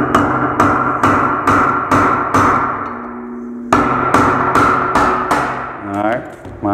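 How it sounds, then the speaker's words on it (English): A steel chisel is struck with a hammer against a nut on a Yamaha X2/X4 clutch. About eleven sharp, loud metallic blows come in a steady rhythm with ringing decay, then a brief pause and a scraping rattle. "take your chisel and hit it"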